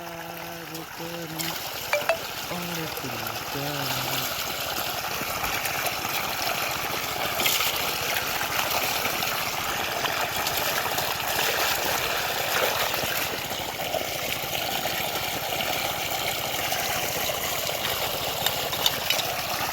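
Water trickles and streams steadily at an outdoor water source as it is collected, a continuous near wash of flowing liquid with a few brief voices at the start.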